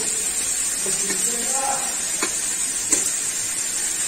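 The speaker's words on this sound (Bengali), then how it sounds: "এগুলো দিয়ে একটু ভাজবো" Ground pastes of cumin, radhuni and poppy seed sizzle in hot oil in a Bengali kitchen while shukto is cooked with vegetables. A steady, close, hissing fry runs throughout with a few faint stirring clinks.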